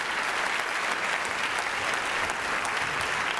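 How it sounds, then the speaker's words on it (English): An audience at a talk claps steadily and loudly, a dense continuous wash of applause with no pauses. "round of applause"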